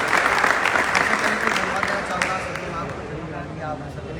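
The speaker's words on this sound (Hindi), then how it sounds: "आप लोग कम से कम लगातार ताली बजाए" Audience clapping steadily for a Mercedes GL luxury car delivery at a team event, dense continuous applause close by that eases slightly toward the end, with voices mixed in.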